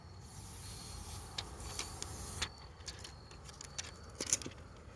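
Protective film being peeled off a Samsung Galaxy S20 FE 5G phone, faint crackling and sticky ticks with a few sharper snaps, quiet and close with no voices.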